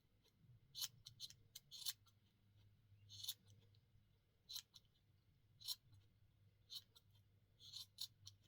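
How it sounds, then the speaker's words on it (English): Scissors snipping off small extra bits to round a piece into a ball, a series of crisp close snips in short irregular bursts over quiet room tone, no talking. "All I'm going to go around and do now is cut off these little extra bits"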